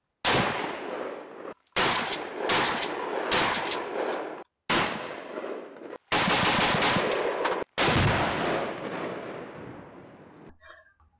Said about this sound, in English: we went out to the shooting range, and we put these guys there, and we just wrecked a little bit of stuff